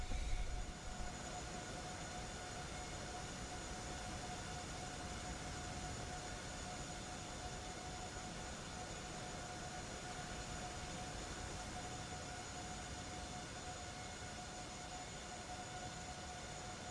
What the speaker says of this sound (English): Listen to those engines whine.